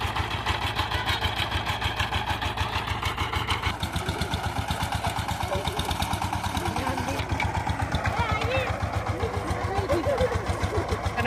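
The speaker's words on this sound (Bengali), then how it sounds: "মাঠটা আমরা প্রথমে পাওয়ার টিলার দিয়ে এক চাষ করে নিই" A power tiller engine ploughing a field, with a steady, rapid thumping idle that runs throughout, close and fairly loud, while a voice talks over it.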